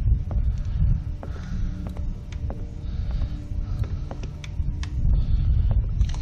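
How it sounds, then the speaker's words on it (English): Deep, steady rumble of an approaching storm in The Walking Dead video game, a continuous low throbbing roll swelling and easing across the whole stretch with faint mechanical ticks on top, no talk. "Feels like there's a storm coming. No, słychać po dźwiękach."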